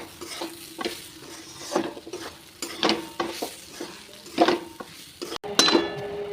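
A spoon scrapes and stirs repeatedly through thick semolina mixed with vegetables in a pan, with soft sizzling and occasional metallic clinks, close and steady.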